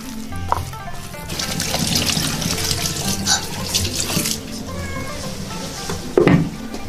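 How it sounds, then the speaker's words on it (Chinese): Tap water gushing steadily into a cooking pot in a home kitchen, a loud continuous splashing stream that fills the whole clip, with a brief clatter near the end. "锅头加清水"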